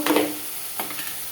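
Tomato paste sautéing in a pan, a soft sizzle under a brief scrape of stirring at the start and a second short stir, close and fairly quiet.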